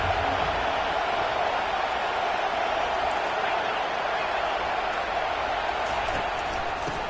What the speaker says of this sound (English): listen to the roar of this crowd